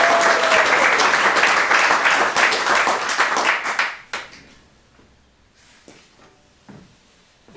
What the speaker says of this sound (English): Let's give a round of applause for Karen Leaders.